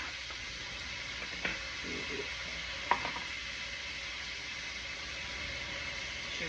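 A whisk stirs thick flour batter in a bowl, a quiet, steady swishing with a couple of sharp clinks against the side.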